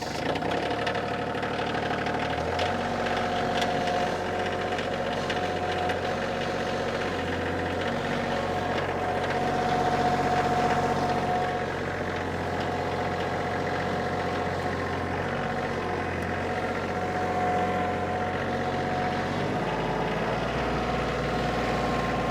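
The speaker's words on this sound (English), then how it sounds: "So I'm going to start this machine up" Kioti CK2610 HST tractor engine running at a steady, close diesel idle, with a slight shift in pitch early on and again near the end, and no talk.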